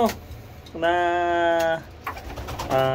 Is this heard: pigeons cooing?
yes